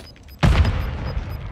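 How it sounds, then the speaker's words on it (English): A Semtex grenade explodes in Warzone 2.0 with one loud, close boom that leaves a rumbling tail, and no one speaks over it. "Semtex incoming!"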